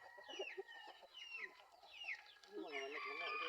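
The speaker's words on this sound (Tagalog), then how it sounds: "Mao ni manok na mo." Chickens cluck and call on a small farm, with repeated rising and falling clucks, bursts of squawking and a rooster-like crow near the end, recorded close but fairly quiet.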